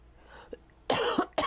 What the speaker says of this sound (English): I hope with this microphone my cough isn't worse